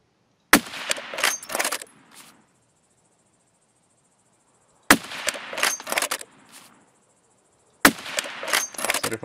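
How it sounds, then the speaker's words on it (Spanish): Three bursts of sharp, rapid sniper rifle fire in the video game Escape from Tarkov, each a loud crack followed by a short rattling tail, separated by several seconds of silence. "Falló ese disparo."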